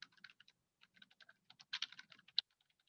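Fingers type on a computer keyboard while a synthesis matrix is filled in, producing rapid, close, fairly quiet clicky keystrokes in bursts with a brief pause.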